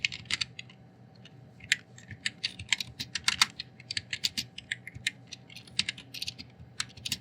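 Fingers type a Java print statement on a computer keyboard, producing irregular bursts of close, crisp key clicks with brief pauses between runs and no talking.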